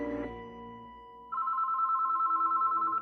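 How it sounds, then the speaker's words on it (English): A telephone ringing, a sustained electronic trill that starts after a brief musical tone fades, steady and fairly loud with no voices. "a phone rang inside of a house pretty far away from the hospital"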